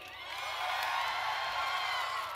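A convention panel audience at Star Wars Celebration Anaheim 2015 cheers and whoops in a sustained, bright roar that builds and holds for a couple of seconds with no talk on top.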